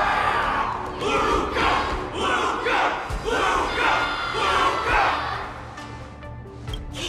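A large crowd cheers and chants in rhythmic, swelling waves, loud and sustained for several seconds with no clear speech on top.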